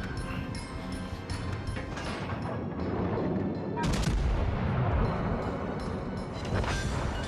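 Naval video game battleship turrets fire heavy artillery, with dense, continuous booming and rumbling blasts layered over loud combat noise and a sharp, strong salvo near the middle.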